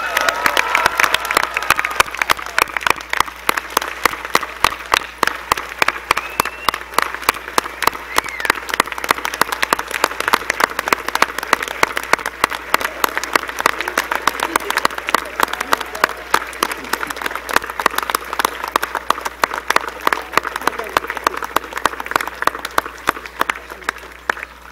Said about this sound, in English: join us in a round of applause for their accomplishments